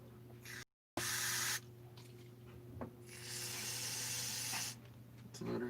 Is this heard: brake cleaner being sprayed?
yes